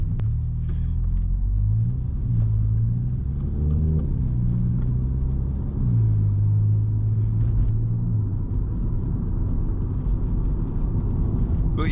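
A 300 bhp VW Scirocco rumbles loudly from inside the cabin on an evening drive, its engine note rising and falling through several revving pulls over a constant deep road drone.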